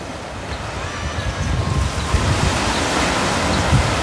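Surf breaking on the beach beside Kinghorn Harbour in Fife, a steady broadband wash of waves with some wind rumble on the microphone, continuous and fairly loud with no talk.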